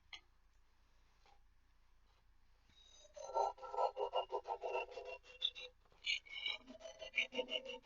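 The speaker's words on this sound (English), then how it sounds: "we're going to trim this where it will fit to be glued down in your notebook" Scissors snipping through paper to trim a sheet to fit in a notebook, a run of close, quick rasping cuts that starts after a quiet stretch and continues in short bursts.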